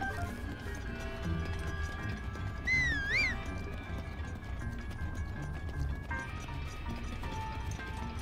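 A horse trots in Zelda: Breath of the Wild, its hooves clip-clopping steadily under game music, with a short whistle-like melodic tone partway through.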